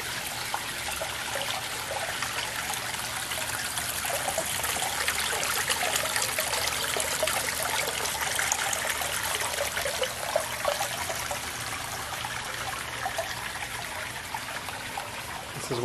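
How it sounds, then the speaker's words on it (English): Small backyard garden pond waterfall trickling steadily, a continuous close splashing wash of water that stays even throughout with no talk. "Little waterfall."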